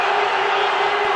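Pakistan supporters roar in a packed stadium at the ICC Champions Trophy cricket final against India: a loud, dense, sustained wall of crowd noise.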